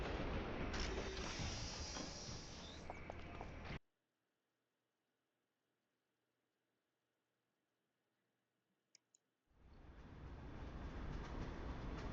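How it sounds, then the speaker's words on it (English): The Justice Tram in the City of Heroes video game rumbles loudly on its rails, cuts to near silence with two faint clicks, then the rolling train noise swells back in. "Why don't I just take the Justice Tram up to Kings Row"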